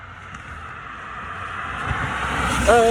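A car approaches along a road, its engine and tyre noise swelling steadily louder over a windy outdoor background, with a brief higher tonal whine near the end.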